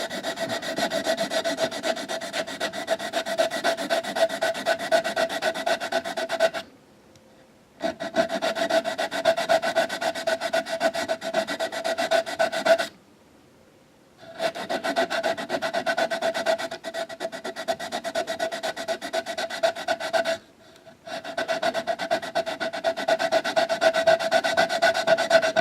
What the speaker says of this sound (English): driving my sanding block parallel to the